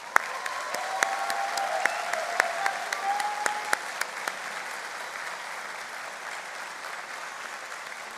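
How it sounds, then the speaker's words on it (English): An audience at a spring convocation applauds the graduating class, broad sustained clapping from a large crowd in a hall with a few louder individual claps standing out, steady throughout and softening slightly toward the end. "How about one more round of applause for this amazing group?"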